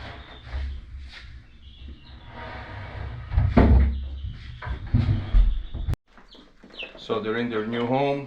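Young chickens, growing pullets, cluck and chatter in their coop, with soft close clucks and rustling under a person's talk, a sudden sharp knock near the middle, then louder trilling calls toward the end.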